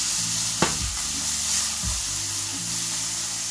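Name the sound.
food frying and browning in pan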